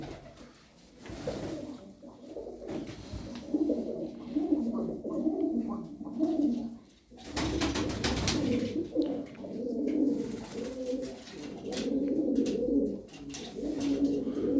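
Twelve tumbler pigeons coo repeatedly in soft, throaty bursts, several birds overlapping at close range with brief pauses between phrases.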